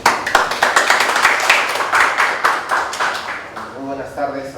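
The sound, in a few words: audience applause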